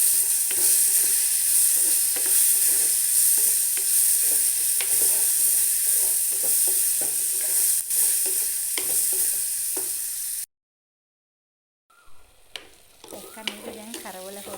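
Chopped raw garlic sizzling in a hot pan of oil as it is stirred, a loud, steady hiss with scraping clicks, then a short silence before quieter frying resumes, with a voice speaking over it near the end.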